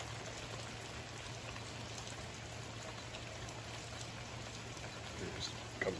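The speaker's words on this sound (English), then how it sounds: "Supposed to continue raining." Rain from Tropical Storm Ian keeps falling outdoors. A soft, continuous patter of drops on surfaces runs through the whole stretch, fairly faint and even, with a low steady hum underneath.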